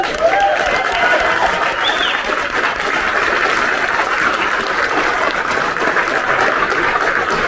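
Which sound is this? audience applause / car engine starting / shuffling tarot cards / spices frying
audience applause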